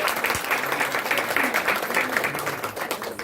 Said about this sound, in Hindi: जरा तालियों से उनका उत्साह कीजिए।